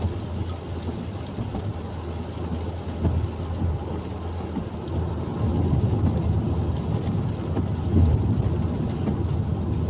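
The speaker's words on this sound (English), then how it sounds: "there's some short, sharp showers, shall we say. That's quite a heavy one now." Heavy rain shower drumming steadily as a broad, dense wash around a car, growing slightly louder toward the end, with no voices.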